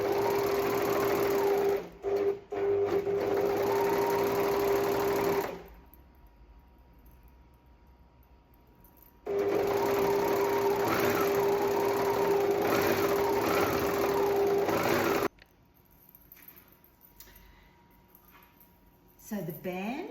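A sewing machine stitches a waistband onto skirt panels made from thrifted sweaters, running in two long loud steady bursts with a pause between, its motor whine and needle chatter close up.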